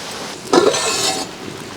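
A single clattering metallic clink as a lid settles onto a pot of simmering bitter gourd masala, followed by a short ringing rattle, then quiet.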